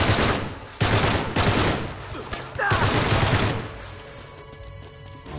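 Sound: gunfire in Uncharted 3 video game

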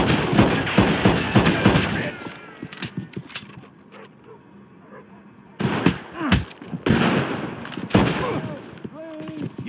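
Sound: gunfire in Red Dead Redemption 2 shootout, video game

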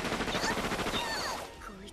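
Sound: rocket launcher firing in Megadimension Neptunia VII video game

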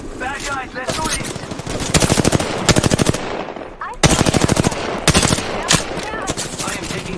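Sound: gunfire in Apex Legends video game

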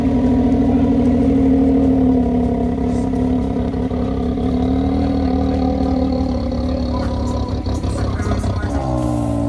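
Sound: ATV engine revving

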